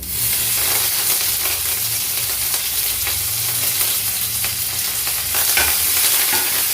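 Continuous sizzling of cumin, asafoetida and curry leaves in hot oil, close and steady, with occasional scraping as they are stirred.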